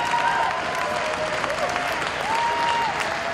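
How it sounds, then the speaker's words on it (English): Crowd applauding at an amateur boxing event, a thick continuous patter of many clapping hands, with a whistle-like tone gliding above it and some voices in the crowd. "Let's give a round of applause for that."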